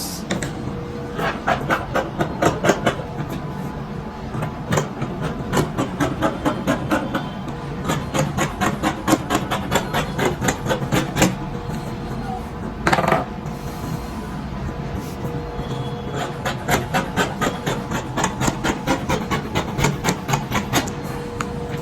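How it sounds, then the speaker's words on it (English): Fabric being cut with scissors for a backless halter neck gown, a dense run of rapid crisp snips and blade rubs repeating steadily throughout, close and fairly loud with no talking. "Okay, so right now I'm going to cut."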